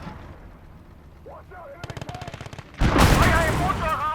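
Tank main gun fire in the WWII strategy game Gates of Hell: Ostfront, a burst of rapid crackling shots followed by a loud, sustained blast and rumble close by.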